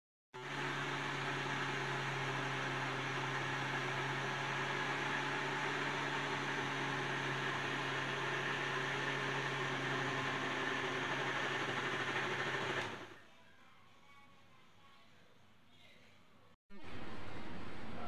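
A kitchen mixer grinder runs with a steady, loud whirring drone for about twelve seconds, then cuts off into near silence before briefly whirring again at the end.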